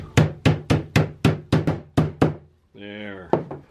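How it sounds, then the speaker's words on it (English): A quick run of eight hard hammer strikes flattening a sheet metal edge, close and loud, followed by a short spoken word and one more blow. "go ahead and pound it down."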